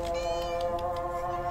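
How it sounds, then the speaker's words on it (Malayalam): A cat lets out one drawn-out meow, close and fairly clear, in a home where a man keeps many cats. No voices are heard. "ഒരുപാട് പൂച്ചയുണ്ട്"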